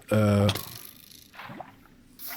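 Water being placed in a Minecraft UHC match makes a short, soft watery splash after a brief tonal game sound, with low background game noise.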